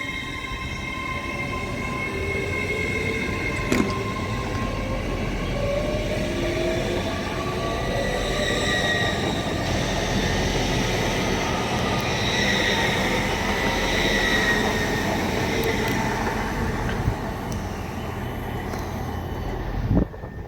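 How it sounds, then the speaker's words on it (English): An LNER Azuma train, unit 801224, passes through a station with a sustained rolling roar and faint squeals from the wheels, steady for about twenty seconds. "The 1708 LNER Azuma service from York to London King's Cross, 801224."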